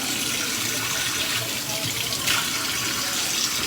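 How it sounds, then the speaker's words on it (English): Cold water runs hard and steady from a kitchen sink faucet, a close, loud, unbroken rush with no voices. "I'm going to turn this to cold water."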